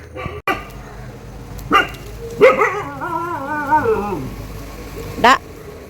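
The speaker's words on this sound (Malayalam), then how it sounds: "എൻ്റെ ബാസ്കിമോ നിന്ന് കുരയ്ക്കുന്നതാണ് കാണുന്നത്" A dog nearby gives a few sharp barks, spaced apart, with a drawn-out wavering whine or howl between them.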